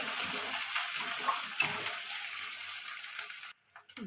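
Turmeric and chili powder sautéing in hot oil in a pan for a fish, potato and eggplant curry: a steady, close sizzle with soft stirring scrapes that drops away sharply near the end.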